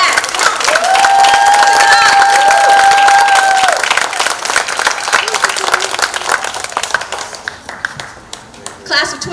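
Audience at a 2021 adult education graduation ceremony bursts into loud sustained applause and cheering, with an amplified voice over it early on before the clapping thins toward the end.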